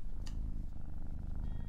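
Two players in a VRChat session imitate a cat's purr together, a continuous low rumbling vibration that runs steadily throughout at close range, without any spoken words.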